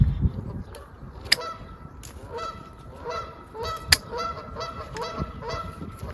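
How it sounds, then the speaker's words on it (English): Geese honk repeatedly in an outdoor orchard setting, a series of sharp, loud calls in irregular bursts with a few especially strong honks standing out, heard alone without talk. "Apparently the geese aren't happy about this."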